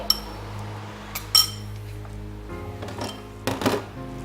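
Cornstarch goes into a pan of noodle gravy with a few sharp utensil clinks against cookware, a louder double clink midway, over a low steady kitchen hum.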